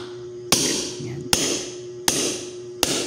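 A hammer taps a CO2 valve quick release four times at an even pace, each sharp metallic strike ringing briefly over a steady hiss of escaping gas.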